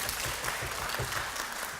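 Steady clapping from the audience at a children's composers' recital in a concert hall fills the short clip, dense and even throughout.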